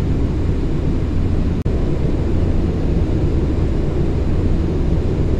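A loud, steady aircraft engine roar runs throughout with a dense, broadband rumble. It breaks off for an instant early on and then continues unchanged, with no voices.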